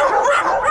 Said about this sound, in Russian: Видишь, как все гавкает.